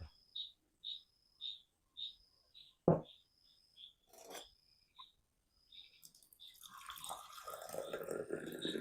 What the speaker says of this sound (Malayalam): ചായയും കൂടെ ഒഴിച്ചു വയ്ക്കണം.